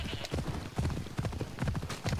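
Rapid rhythmic hoofbeats of a galloping horse in Assassin's Creed Odyssey, close and continuous, with a brief whinny-like sound mixed in.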